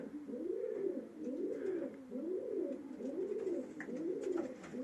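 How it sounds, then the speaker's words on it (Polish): Pigeons cooing at night, a steady repeating series of soft, rounded coos, close and calm, with faint rustling and no voices. "I taki nocny przegląd gołąbków."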